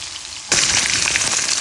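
New potatoes start frying crisp in hot oil, quiet at first and then a sudden loud, crackling sizzle that keeps up steadily at close range with no one speaking.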